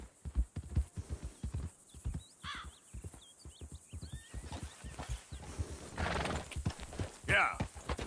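A horse in the video game Red Dead Redemption 2 clip-clops with steady rhythmic hoofbeats and whinnies loudly twice near the end, while someone speaks briefly over it.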